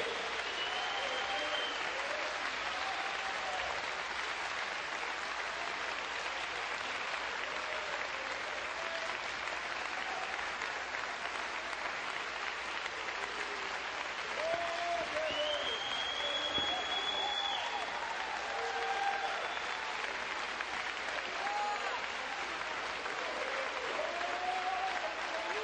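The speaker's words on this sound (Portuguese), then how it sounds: "Quero ver mais palmas para esse Deus." Continuous, steady applause from a church congregation clapping for God at an evangelical Pentecostal service, with scattered cries and voices above the clapping.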